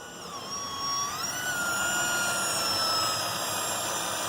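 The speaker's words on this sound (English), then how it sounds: "that's the power steering pump that you're hearing as he goes back and forth" A 2014 Nissan electric power steering pump whines as the steering wheel is turned back and forth, a close steady hum with tonal whine rising and falling in pitch.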